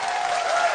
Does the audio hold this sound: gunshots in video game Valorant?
no